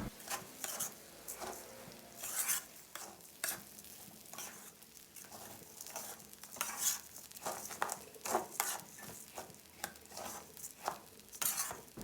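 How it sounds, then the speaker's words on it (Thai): Raw rice being stir-fried in a pan for Thai-style chicken rice, giving a steady soft sizzle broken by repeated scraping and stirring strokes and light clinks of a utensil on the pan, close and moderately loud, with no talking. "ผัดจนเม็ดข้าวของเราขุ่นขึ้นมาเลยนะครับ แต่ไ ม่ต้องผัดจนเม็ดข้าวของเราสุกนะครับ"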